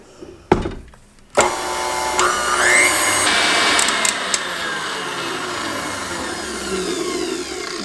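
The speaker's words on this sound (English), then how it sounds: "I'm going to add the egg whites and the cream of tartar and beat those until they get stiff" An electric mixer whips egg whites with cream of tartar in a bowl, starting after a couple of clunks and then settling into a steady, close whirring drone whose pitch shifts slightly as the beaters work.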